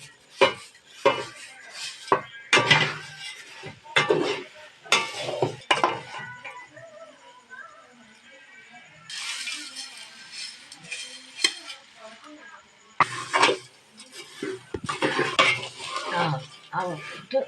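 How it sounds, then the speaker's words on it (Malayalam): Flattened rice (aval) being stirred and mixed in a pan in a home kitchen, with repeated scraping and clinking of a spoon against the metal pan in uneven bursts, close and fairly loud, brief pauses between strokes and a soft sizzle underneath. "ഇട്ട് ഇളക്കി നല്ലപോലെ ഇളക്കി മിക്സ് ചെയ്യുക"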